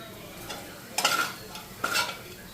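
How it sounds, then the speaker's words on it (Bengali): Papad frying in hot oil in a kadai, a low background sizzle with two distinct bursts of crackling and scraping about a second apart. "এদিকে এখন আমার তেলটা গরম হয়ে গেছে, এদিকে পাঁপড়টা ভাইজা নিই"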